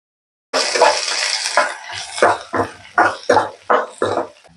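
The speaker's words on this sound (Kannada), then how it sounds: "ಅದಕ್ಕೆ ಈರುಳ್ಳಿ ಹಾಕೊಂಡು ಆ ಈರುಳ್ಳಿನ ಜಸ್ಟ್ ಬಾಡಿಸ್ಕೊಳ್ಳಿ" Chopped onions with five or six green chillies fry in hot oil for chicken keema, a sudden burst of sizzling that settles into repeated stirring scrapes and crackles, close and fairly loud.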